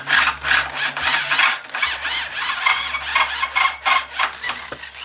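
Cheap $15 Value Village drill boring into wood, a close, continuous grinding and rasping with rhythmic surges as the bit cuts, and no talk.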